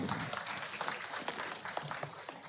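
Applause from a seated audience at an evening Indonesian talk event, a steady patter of many hands clapping at moderate volume throughout, with no talk over it.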